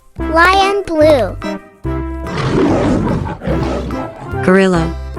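A cartoon lion roaring, with long, loud, rough growling roars between bursts of bright, cheerful voices, the roars sitting close and filling the middle of the passage.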